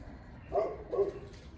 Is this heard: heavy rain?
no